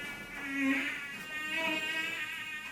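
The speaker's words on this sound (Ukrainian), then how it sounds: "аж тут летить комар." Flying mosquito in a Ukrainian puppet show, a thin, wavering high buzz that swells and fades twice over a few seconds, fairly close and steady, with no talk over it.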